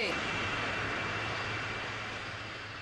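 A departing airliner's engines roar in a steady, loud, broadband rush, fading slowly as the plane moves away.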